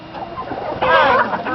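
Chickens with feathered feet cluck close by on a farm, a burst of wavering clucks rising in the middle amid a busy, noisy yard.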